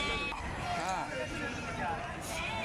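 Goat kids bleat among the crowd at a Melapalayam goat market, short wavering cries rising over steady chatter and bustle, with people talking throughout.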